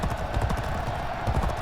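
Horse hooves gallop in the racing video game G1 Jockey 4, a fast, continuous rhythmic drumming of clip-clops, steady and fairly loud throughout.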